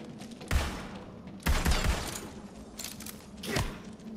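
In Tiny Tina's Wonderlands, a gun fires at a chest, giving several sharp gunshot bangs spaced about a second apart over a steady background of game noise.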